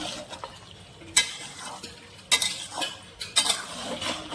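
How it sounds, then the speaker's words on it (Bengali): Mutton with spices stir-fried in mustard oil in a pot, with a soft background sizzle broken by a few sharp scraping and clanking strokes of a metal spatula against the pan. "মশলা এটাকে আরেকটু সামান্য কষিয়ে ঢেকে দেব"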